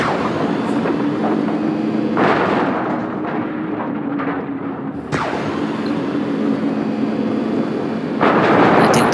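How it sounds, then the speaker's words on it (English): Flying saucer death ray blasting buildings in Destroy All Humans, heavy sustained roaring and rumbling explosions in loud waves, broken by short lulls and renewed blasts. "So the weapon in the saucer is the death ray"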